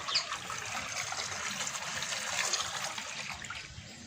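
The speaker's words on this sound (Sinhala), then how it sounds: "වතුර දැන් පිරෙනවා" Tap water runs into a garden fish pond, a soft, steady trickle and splash that continues without break at moderate volume and carries no speech.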